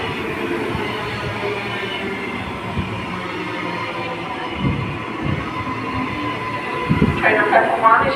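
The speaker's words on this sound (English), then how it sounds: "Brisbane City, Brisbane Airport train approaching. This train will arrive onto platform 1. It is a new generation rolling stock train." A new generation rolling stock six-car train approaches the platform at Helensvale station, a steady rumbling roll with a rising rattle and squeal near the end, heard under a platform announcement voice.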